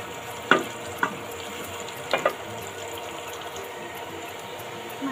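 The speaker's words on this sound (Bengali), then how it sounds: "পেঁয়াজটা ভাজি হচ্ছে" Onion frying in a pan, a steady moderate sizzle broken by a few sharp utensil clinks.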